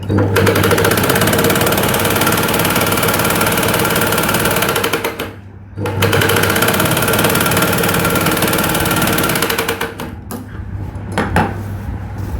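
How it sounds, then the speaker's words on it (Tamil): Sewing machine stitching a blouse band, running as a loud, steady rapid mechanical whir with a hum, briefly stopping twice before starting again. "ஒரு தையல் தான் போட்டேன்னா இன்னொரு தையலை இப்படி போடுறேன் போட்டது மேலேயே இன்னொரு தையல்"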